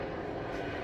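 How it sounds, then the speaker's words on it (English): An orange helicopter passing overhead, heard as a loud, steady broadband engine and rotor roar that fills the short moment without any talk over it. "Something loud. Helicopter? Oh yes, helicopter, an orange one."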